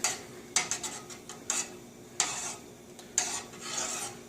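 A spoon scraping around a pot of brown-sugar mixture as it heats, giving a few sharp, irregular scrapes and clinks over a faint background hiss, close and fairly quiet.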